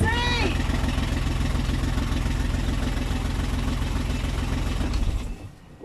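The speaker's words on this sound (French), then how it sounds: "Je suis content que le moteur fonctionne." Engine runs for the first time after starting, a loud, steady, close idle with a low rhythmic throb that continues for several seconds and then cuts off abruptly, with voices heard briefly at the start.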